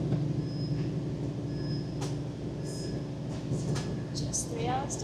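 A slow FEVE passenger train sets off from Santander toward Bilbao, with a steady low rumble of wheels and car body, faint squeals and clanks from the running gear, and brief voices in the background.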